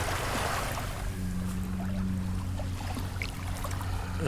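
Water sloshes and swirls around legs wading along a rocky beach while hunting for agates, a steady close churning with gentle splashes and no voices.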